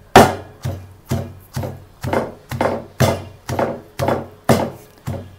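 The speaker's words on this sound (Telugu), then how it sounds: "ఇలా మొత్తం గోంగూర అంతా దంచుకోవాలండి" Gongura leaves are pounded in a mortar for an Andhra-style pickle, giving about eleven steady, heavy thuds roughly half a second apart, each close and resonant, with no speech over them.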